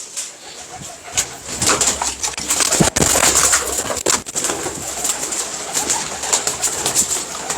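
Teddy pigeons cooing steadily in a loft, with soft overlapping coos and occasional wing flutters close by over a continuous background hiss.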